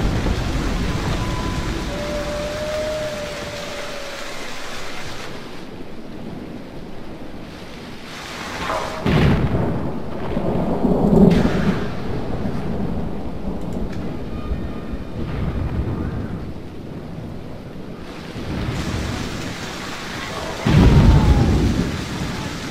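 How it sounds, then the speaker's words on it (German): Thunderstorm with steady rain in the strategy game Medieval 2 Total War, night battle on open field: continuous rain hiss with several deep rolling thunder claps, the loudest near the end, no voices. "bei Gewitter auf offenem Feld."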